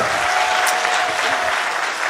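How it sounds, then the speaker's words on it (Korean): A rally crowd breaks into steady, dense applause, a continuous wash of many hands clapping at once for the full stretch, loud and close with no voices standing out. "지금 박수"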